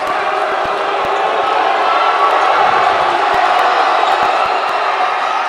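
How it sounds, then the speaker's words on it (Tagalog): A basketball crowd in Minalin roars and cheers after a missed free throw at a close DELTA CUP 2023 game, a loud, steady wall of voices with sharp ball bounces and thuds cutting through. "At nabuhay ang crowd ng Minalin."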